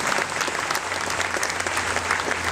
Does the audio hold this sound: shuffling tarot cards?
no